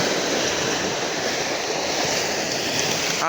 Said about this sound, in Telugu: సముద్రం ఈ ఫాస్ట్గా కూడా ముందుకు వస్తుంటుంది ఒక అల అక్కడ వచ్చిందనుకోండి